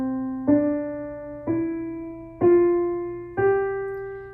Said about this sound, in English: I've pre-recorded into my digital starting at middle C and playing the next 4